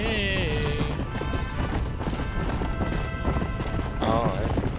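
Rapid clip-clop of horse hooves with loud whinnies at the start and again near the end in Red Dead Redemption: Undead Nightmare, with someone talking over it.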